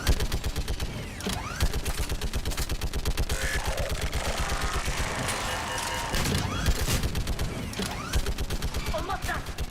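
Mounted turret in Mass Effect 3 fires a long, steady stream of rapid shots with mechanical clatter, loud and continuous across the whole stretch, with occasional bursts and impacts mixed in.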